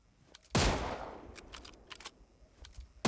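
Mosin Nagant bolt-action rifle shots in PUBG Mobile Lite: one loud, sharp crack with a ringing tail, a few faint distant pops, and then a second loud shot right at the end.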